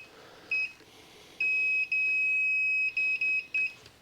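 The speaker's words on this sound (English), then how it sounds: "it's beeping, so it's working" A high-pitched multimeter continuity beep sounds in short bursts while testing a Creality CR-6 SE 3D printer's power wiring, one brief chirp then several longer tones, close and clear against quiet background.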